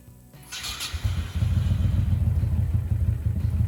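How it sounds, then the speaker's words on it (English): A Honda Aero VT1100C3 motorcycle engine starts and settles into a rough, uneven idle, its low pulsing chug loud and close. "she idles here, very rough, but she's idling up."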